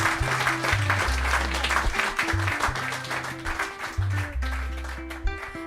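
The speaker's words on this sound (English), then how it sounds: "Applause for Mr. Mouse." An audience claps over a bouncy musical accompaniment with a steady beat. The applause is moderate and continuous and fades near the end.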